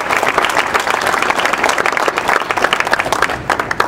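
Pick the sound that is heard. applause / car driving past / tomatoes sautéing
applause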